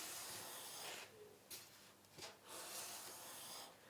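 A knife's micro bevel being polished and its leftover burrs pulled off during sharpening: steady close rasping strokes with a couple of short gaps between passes.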